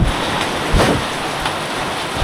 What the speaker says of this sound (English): Yeah, it is just raining.